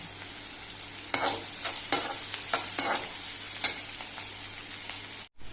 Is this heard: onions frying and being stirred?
yes